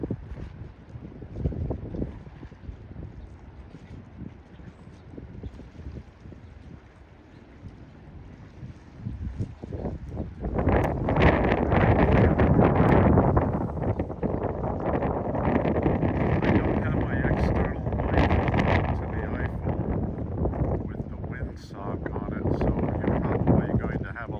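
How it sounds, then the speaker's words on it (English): Wind roaring during a coastal storm on eastern Long Island, gusty and buffeting against the microphone, building from a moderate rush into a loud sustained blast midway and staying strong to the end. "Background wind noise."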